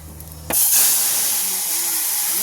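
A sudden loud sizzle bursts in as spices hit hot oil for tempering a Tamil kootu, then continues as a steady, bright crackling hiss.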